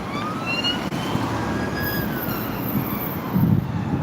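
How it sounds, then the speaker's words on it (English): Wailing sirens rise and fall continuously at a distance, several overlapping, with a steady rumble of traffic underneath and no talking. "there's a lot of sirens."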